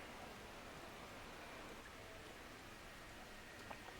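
Rain in an F1 racing video game makes a soft, continuous hiss of falling water, steady and faint throughout with no engines or voices standing out.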